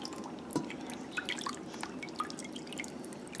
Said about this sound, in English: I'm gonna put a little bit of water here in this pan.